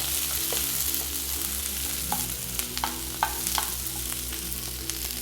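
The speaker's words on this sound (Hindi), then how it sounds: "अब कढ़ाई में मैंने 2 चम्मच के करीब ऑयल गरम किया है, इसी में प्याज को डाल देंगे।" Onions fry in about two spoons of hot oil in a kadhai, a steady close sizzle with occasional light clicks and scrapes of stirring, no voices.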